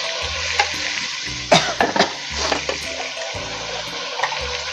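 Spices roasting and being stirred in a pan for an aloo keema dish, with a steady close sizzle and the occasional louder scrape of stirring.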